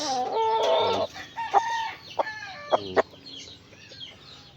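Several bearded hens cluck and squawk close by in short bursts, one call drawn out at the start, with farmyard background behind them.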